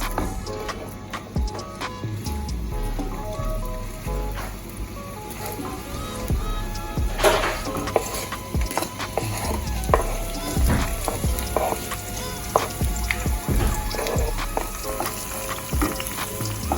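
Onions fry in a good amount of oil in a Jamaican home kitchen, giving a dense, steady crackling sizzle close by with occasional stirring knocks and no talk.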